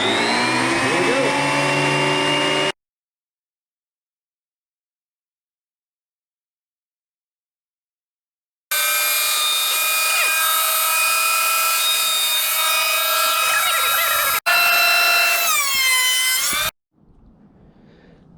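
Thickness planer feeding Purple Heart and Padauk hardwood boards, a loud steady whining roar with strong tonal harmonics, cutting out to silence between passes, then another brief roaring pass with a falling whine as it spins down.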